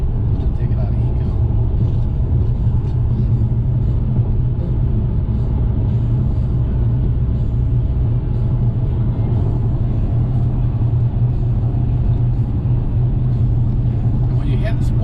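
Inside a Dodge Scat Pack being driven, a low, constant engine rumble and road drone fills the cabin while someone talks over it.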